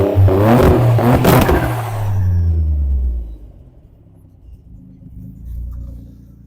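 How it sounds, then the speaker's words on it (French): A Nissan 300ZX with a twin-turbo 3-litre V6 revs loudly up close, its exhaust roaring for a couple of seconds before the engine settles into a low rumble and revs gently again. "Perso, je suis pas fan du bruit de cet échappement."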